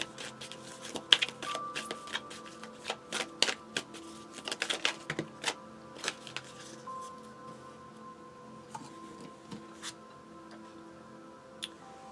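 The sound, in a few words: shuffling an angel oracle card deck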